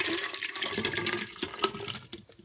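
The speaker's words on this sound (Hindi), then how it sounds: "तो अब हम इसको डालेंगे ब्लेंडर जग में" Thick baby food mixture poured into a blender jug, a steady liquid splashing and gurgling pour with a few sharper splats near the end, close and moderately loud.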